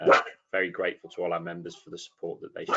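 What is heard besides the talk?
dog barking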